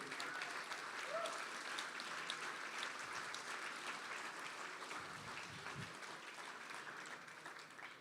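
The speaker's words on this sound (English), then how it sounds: "Let's have a round of applause." An audience claps at a gala auction evening, a fairly soft, continuous patter of many hands that gradually fades toward the end, with faint murmurs beneath.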